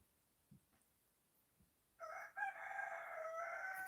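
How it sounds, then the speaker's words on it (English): Roosters crow loudly outside at night on a remote off-grid property in New Zealand, a long ragged crowing call breaking in halfway through after near silence with a few faint knocks. "How are you going to sleep with 6 cocks outside making a hurrah of a racket?"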